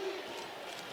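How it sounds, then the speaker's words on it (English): Loud roar of a crowd inside a basketball arena at a college women's game, a dense continuous wash of voices heard alone over a brief moment. "The crowd that's here is loud."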